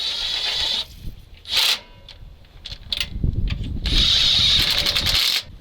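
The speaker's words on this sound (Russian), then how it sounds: "Заводится он почему-то плохо. То есть крутишь, крутишь." CASE 6TA-830 diesel engine on an abandoned ZIL 4975 cranking with a starter whine in several bursts, struggling and not catching, with mechanical clatter between attempts.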